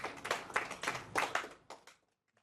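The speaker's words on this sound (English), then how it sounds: "Please give a round of applause" An audience at a traders' AI workshop gives a short round of applause. Several bursts of clapping rise and fall for about two seconds, then fade into silence.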